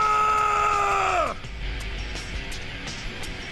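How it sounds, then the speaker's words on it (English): A loud, drawn-out scream in the video game Death End Re;quest holds a strained pitch, then slides sharply downward and cuts off, leaving quieter background sound. "Did anyone hear that scream?"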